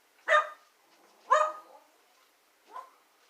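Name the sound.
dogs barking in the background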